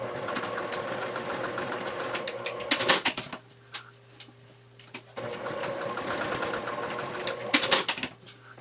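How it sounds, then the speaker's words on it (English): Sewing machine topstitching a fabric crossbody strap: close, rapid mechanical whirring runs in two long bursts separated by a quiet pause, with small clicks and handling noises between the seams and no talk. "So I usually do 2 lines of top stitching."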